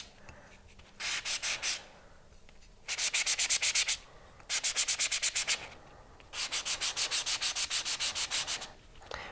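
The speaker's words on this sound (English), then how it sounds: "I'm going to take it up to the edge and I'm going to sand it on the sides." A silver clay ring is sanded along its edges and sides, giving four bursts of rapid back-and-forth scraping strokes, close and fairly loud, separated by short pauses with no talk.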